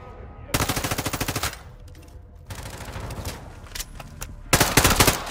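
Automatic gunfire in Call of Duty: Modern Warfare 2, three loud bursts of rapid rhythmic shots separated by quieter stretches of scattered shots and game ambience.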